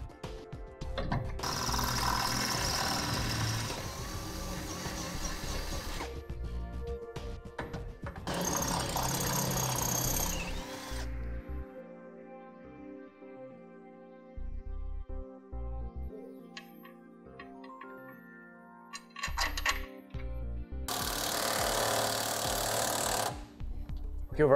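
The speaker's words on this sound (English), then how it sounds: "Now we'll go ahead and drill our last two holes and install hardware there" A power drill bores holes while Air Lift Ride Control air helper springs are fitted to a 2005 vehicle, heard in several loud bursts of whirring separated by quieter pauses of clicking and handling.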